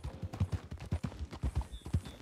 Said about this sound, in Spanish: Llegó el caballo.